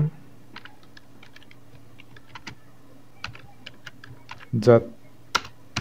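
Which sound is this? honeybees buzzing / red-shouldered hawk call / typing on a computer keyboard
typing on a computer keyboard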